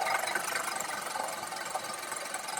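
A Scotts Classic 20-inch manual reel mower cuts through lawn grass, a steady close whirring and clattering of spinning blades snipping grass, continuous and fairly quiet with no talk.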